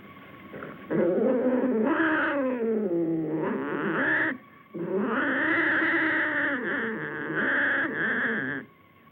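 A cat in a 1963 film scene lets out long, drawn-out, wavering meows and yowls, two sustained cries with a short break between, loud and close.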